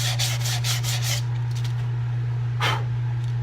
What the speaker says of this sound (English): when we get the last bit of sanding done on the inside